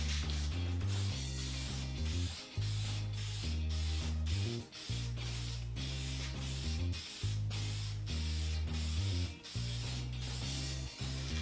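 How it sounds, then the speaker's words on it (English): A spray lacquer can hisses in repeated bursts close by, coating a wooden towel rack, with a rattling mechanical hum underneath and brief pauses between passes. "Now time to add a few coats of spray lacquer to this."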